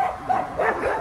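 A Shepherd-Hovawart mix dog gives a couple of short, close barks or yips in quick succession.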